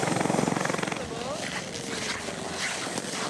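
A rescue helicopter flying for a firefighters' high-mountain rescue near Chamonix: a steady rotor roar with a rhythmic blade chop that is strongest at the start, joined by wind noise and voices.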